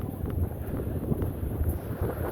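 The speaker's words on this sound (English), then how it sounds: "If the microphone is picking up this wind, I apologize because it is very windy." Gusty wind buffets the microphone on a very windy day outdoors on the Las Vegas Strip, a continuous low rumbling roar with fluctuating pressure and no talk.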